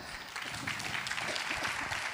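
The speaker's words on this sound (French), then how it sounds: "on vous applaudit tous les trois." Audience applause at a debate-style talk on critical thinking and free expression, a steady dense wash of clapping held at moderate level through the whole stretch.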